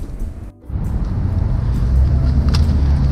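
A Chevrolet C10 pickup shop truck pulls away with a steady, loud engine rumble and road noise building after a brief pause near the start.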